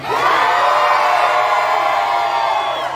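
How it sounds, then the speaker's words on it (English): A concert crowd at a live hip-hop show in Waco, Texas, screams and cheers loudly and continuously, a dense roar of high-pitched shouts filling the whole stretch. "Stop screaming over there in the corner."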